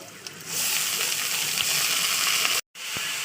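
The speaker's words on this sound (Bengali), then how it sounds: "পেঁয়াজটা একটু ভাজা ভাজা হয়ে গেছে দিয়ে দিচ্ছি আলু" Potatoes go into a pan of frying onions and set off a loud, steady broadband sizzle that hisses continuously. It breaks off with a brief dropout near the end, and a voice speaks faintly nearby.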